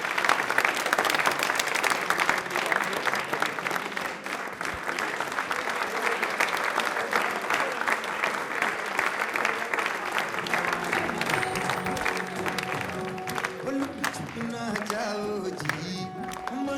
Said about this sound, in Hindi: तालियां अपने लिए जोरदार वाली बजा दें प्लीज।